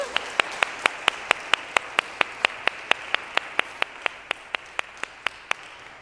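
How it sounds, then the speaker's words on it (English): Applause in a church for a group of quilters comes as a steady run of crisp, evenly spaced single claps, close and distinct over a quiet room tone, gradually softening toward the end. "I think they deserve a round of applause"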